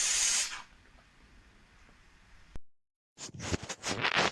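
A Dupray Neat steam cleaner lets out a loud hiss of steam at the start, then a long quieter stretch, a brief silence, and several sharp, loud spurts of steam in close succession toward the end.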